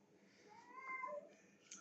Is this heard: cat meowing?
yes